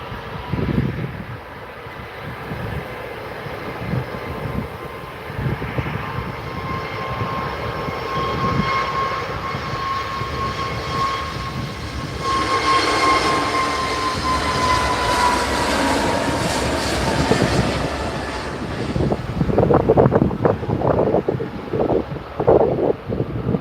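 An airliner departs from runway 23L at Manchester Airport, its engine roar building steadily into a loud, sustained rumble with a whining tone, blown by strong wind buffeting the microphone.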